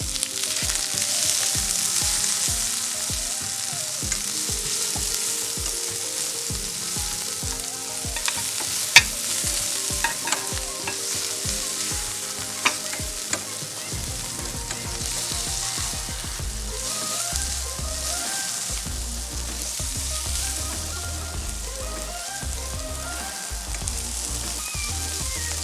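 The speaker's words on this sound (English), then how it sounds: "At this time, we're going to add in our vegetables," Onions, scallion and carrots fry in a pan with garlic for a vegan Jamaican ackee breakfast. A steady, bright sizzle runs throughout, broken by repeated scraping and stirring strokes of a utensil against the pan, close and continuous without talking.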